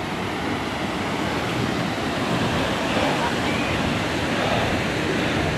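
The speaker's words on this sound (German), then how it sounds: "ich hoffe, ihr hört das Meeresrauschen" Continuous ocean surf roars steadily at a small beach cove, a dense broadband wash of waves with wind noise, with no distinct breaks or quiet moments.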